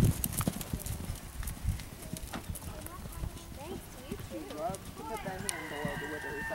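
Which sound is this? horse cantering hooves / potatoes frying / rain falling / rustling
horse cantering hooves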